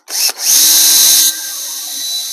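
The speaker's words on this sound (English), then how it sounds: "Using a 1/16 of an inch bit, allow these screws to self-tap here into the" A power drill with a 1/16-inch bit drives self-tapping screws into masonite on a model railroad fascia, one sharp high whine that dips briefly, then a sustained loud spin before easing to a lower steady hum, close and without speech.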